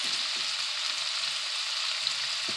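Onions and garlic fry in a soup pot, giving a soft, steady hiss that holds even from start to finish, with a couple of faint bumps.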